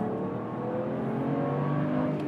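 A 2011 BMW 1M Coupe engine roars as it accelerates hard, the pitch climbing steadily and loud throughout, with no one speaking.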